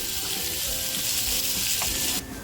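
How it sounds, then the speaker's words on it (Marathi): Half a rawas fish frying in a pan of oil, a loud, even sizzle heard close with faint bubbling beneath, dropping off abruptly near the end. "अर्धा रावस जो मी ठेवून दिला होता तो सुद्धा आता फ्राय करून घेतलाय"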